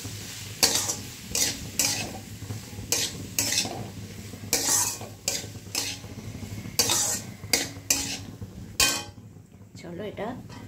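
Pumpkin with spices for a Bengali fish-head dish fries on a high flame, a steady sizzle broken by repeated scraping, clinking stirs of a spatula against the pan, close and clear.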